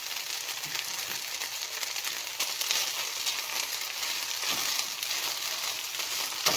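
A vegetable biryani mixture sizzles and crackles in a pan, a continuous close frying hiss with occasional stirring scrapes; no talking.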